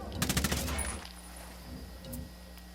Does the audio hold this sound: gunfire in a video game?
yes